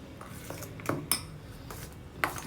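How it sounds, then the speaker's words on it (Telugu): Spoon clinks against a bowl while a thick, idli-batter-like high-protein mix is stirred, a few sharp taps spaced irregularly over quiet room background, close and moderately soft. "దీన్ని బాగా మిక్స్ చేసుకుందాము."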